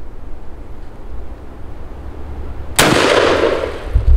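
A Keltec KS7 pump shotgun fires a Federal 2 3/4-inch shell on an outdoor range: one loud blast after a stretch of steady breezy background, then a long booming tail and a low thump.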